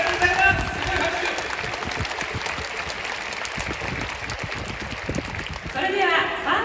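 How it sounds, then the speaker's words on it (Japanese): A crowd applauding at a baseball first-pitch ceremony: sustained clapping from many people at moderate volume, swelling slightly toward the end, with some speech over it. "すごい拍手"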